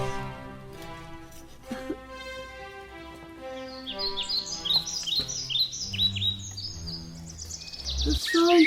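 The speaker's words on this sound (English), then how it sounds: "songbirds. They've come." Songbirds chirp and trill in bright bursts from mid-clip, rising over a sustained orchestral music bed in a children's stage performance of The Nightingale.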